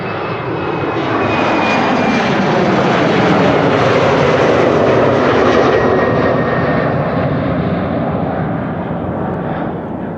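A jet airliner roars loudly at Amsterdam Schiphol Airport, a broad engine rumble that builds and holds steady before easing slightly as it passes.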